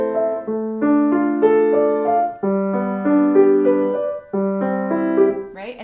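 Piano playing a Schytte little etude in broken chords, the sustain pedal changed too early so notes don't connect; steady, moderately loud phrases with brief dips between groups, played alone.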